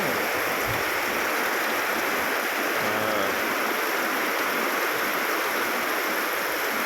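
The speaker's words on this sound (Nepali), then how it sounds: "एकदमै भारी वर्षा भइरहेको छ" Heavy night rain in a village pours in a loud, constant broadband rush, steady and unbroken, with no voices.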